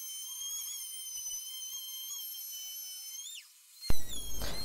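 A high-pitched, steady drill whine runs for a few seconds while drilling a hole partway down, then drops off and ends in a short clatter of noise.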